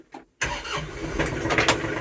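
A TYM 394HC compact tractor with a three-point PTO snowblower attached cranks briefly and fires up, then settles into a loud, steady diesel idle close by.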